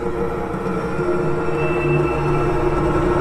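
A tram rolls across a river crossing, giving a continuous, loud rumble of wheels on rails with a faint high squeal partway through and no voices.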